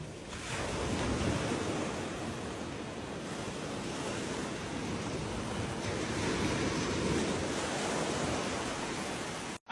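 Ocean surf breaking at a small rip current on a beach at low tide, a broad continuous roar of waves and wash with some wind noise, steady and enveloping from start to finish, no talking.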